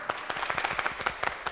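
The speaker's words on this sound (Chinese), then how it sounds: "掌声" A studio audience gives a short burst of applause on a Chinese children's variety competition show, dense overlapping hand claps sustained for about a second and a half, no voices on top.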